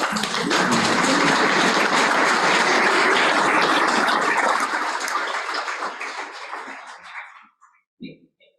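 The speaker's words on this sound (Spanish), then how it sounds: "Un fuerte aplauso" A ceremony audience gives loud, dense applause at an honorary doctorate presentation, sustained for several seconds before tapering off, followed by a couple of faint thumps.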